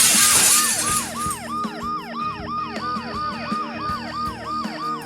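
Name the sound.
ambulance siren and glass breaking in video game Dead Synchronicity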